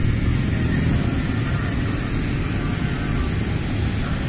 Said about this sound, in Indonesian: Nah, ini balik lagi drone-nya.